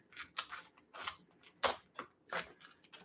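Scissors or a blade cut open a package in a quick series of sharp, close snips and crinkling rips, roughly eight bursts over a few seconds with no talking.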